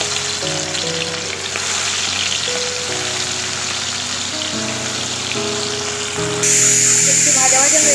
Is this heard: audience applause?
no